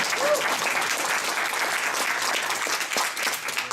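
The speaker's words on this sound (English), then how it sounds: "Can we give a round of applause to all the people who invited you here?" An audience gives a round of applause at a presentation event, dense crowd clapping filling the whole stretch at fairly close range, steady and loud, with a brief voice heard faintly near the start.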